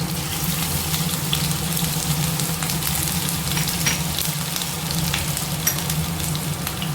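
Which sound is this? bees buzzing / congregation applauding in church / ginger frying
ginger frying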